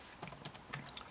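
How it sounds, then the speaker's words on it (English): Keys clatter on a computer keyboard in a quick burst of close, crisp taps, including a press of the enter key, with no talking. "hit enter on my keyboard"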